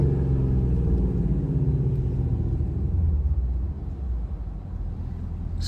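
A Chrysler 300 with a 5.7L engine, BBK headers and a very loud exhaust gives off a deep, steady rumbling drone nearby, easing slightly partway through.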